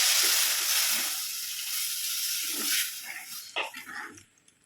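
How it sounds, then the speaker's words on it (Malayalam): Tamarind water poured into a hot pan of onion curry with fried dal and ground paste, giving a loud broad sizzling hiss that gradually fades, with a few soft clinks near the end. "ഇനി കുറച്ച് പുളി വെള്ളം ഒഴിക്കും"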